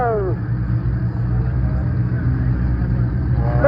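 Ferrari Enzo hypercar pulling away at Supercar Fest, a steady low engine rumble holding throughout over crowd noise.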